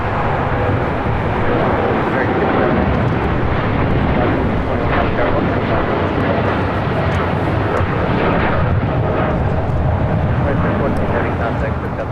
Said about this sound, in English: taking off to Newark on a 787-10 Dreamliner.